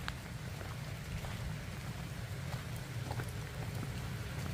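Steady rain falls outdoors in the countryside, a continuous, even patter and hiss with no pauses and no voices.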